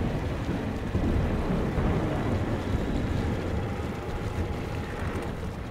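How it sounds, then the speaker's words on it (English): A thunderstorm in the video game Metro Exodus rolls on as a continuous, heavy low rumble, with steady rain-like hiss layered over it for the whole stretch and no voices. "Wow, that storm doesn't seem to be a joke."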